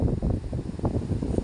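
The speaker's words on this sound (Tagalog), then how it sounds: "Sobrang lakas ng hangin mga idol oh." Strong gusts at Caunayan, Pagudpud, Ilocos Norte, batter the microphone in uneven bursts, a rough, fluttering rumble that rises and dips without pause.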